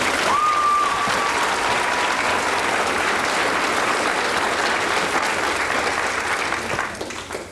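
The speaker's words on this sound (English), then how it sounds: "let's give them a round of applause as well" Crowd applause at a Kids Voting event, a dense and sustained wash of clapping from many hands that runs loud throughout and tapers slightly at the end.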